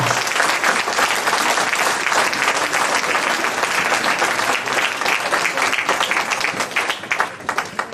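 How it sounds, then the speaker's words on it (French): Sustained, dense applause from an audience honoring a former mayor at a New Year's wishes ceremony in Pussay, steady and loud throughout before thinning slightly near the end. "Voilà, vous pouvez l'applaudir."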